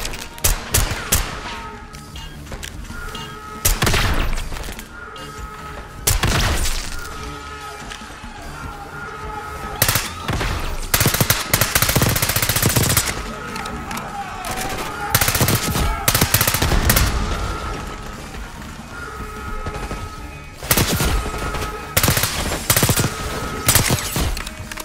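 Rapid bursts of automatic gunfire from the Black Ops 6 campaign ring out loud and close, repeated volleys with brief pauses, and a voice speaks occasionally between them.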